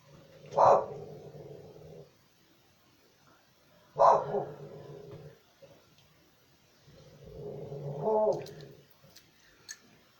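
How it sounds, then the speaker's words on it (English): A dog barks in three separate bouts spaced a few seconds apart, each a short, moderately loud burst followed by quieter rumbling, with no talk. "the dog's barking again because Beatrice is around and she thinks she's going to nick her bone"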